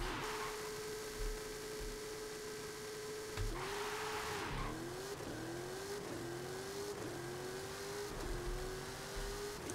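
A Cadillac limousine in Forza Horizon 5 races down a highway, its engine droning loud and close, revving up through repeated gear shifts with brief dips between each rise.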